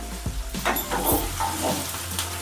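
Garlic, chillies and curry leaves sizzling in hot oil in a pan, a quiet steady frying hiss with soft crackles and light stirring scrapes throughout.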